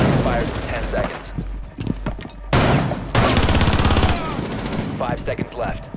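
Sustained automatic gunfire in the tactical shooter Rainbow Six Siege, loud rapid bursts and long fusillades with a voice talking over parts of the firing.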